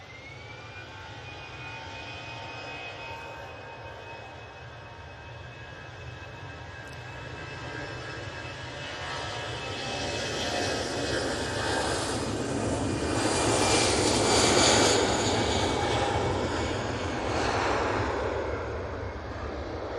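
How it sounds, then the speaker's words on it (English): An EasyJet airliner taking off from Manchester Airport for Malaga, its jet engines building into a loud, broad roar that peaks mid-way and holds, with a steady whine running beneath, heard alone at a distance. "And that's Easyjet off to Malaga."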